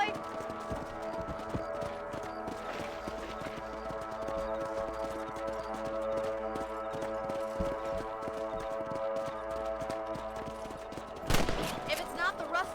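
Steady clip-clop of a horse's hooves while riding in Red Dead Redemption, continuous and fairly close under a musical game score, with a burst of sharp gunfire-like cracks near the end.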